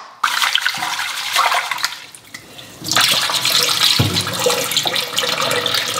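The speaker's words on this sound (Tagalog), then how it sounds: "Hugasan ko lang muna yung bigas." Uncooked rice is washed by hand in a pot under running water, with a steady splashing, swishing wash that surges louder midway, close and continuous with no talking.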